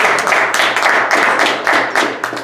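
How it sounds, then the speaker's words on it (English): An audience applauding at a meeting, a close, loud burst of hand claps in a dense irregular patter that swells in waves and keeps going throughout. "How about we give him a big round of applause"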